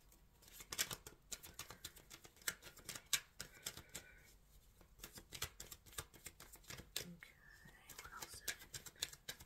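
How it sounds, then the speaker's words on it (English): Tarot cards being shuffled close up, soft riffling and papery flicks in irregular bursts, with quiet whispered speech over the top. "Shuffling for Aquarius."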